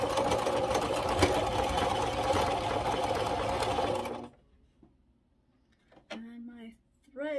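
A sewing machine runs steadily for about four seconds while stitching Halloween cushion fabric, then stops abruptly, leaving near silence before a voice speaks briefly.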